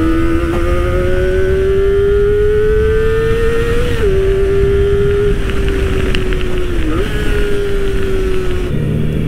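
A Kawasaki Ninja ZX-25R SE 250cc four-cylinder motorcycle holds a loud, high-pitched steady wail, rising slightly with small throttle blips and dips, heard up close with no talk.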